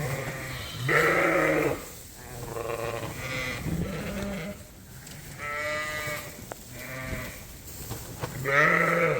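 Dorset lambs in a barn with fresh straw bedding, bleating loudly and repeatedly in drawn-out calls at close range, with overlapping cries and background rustling.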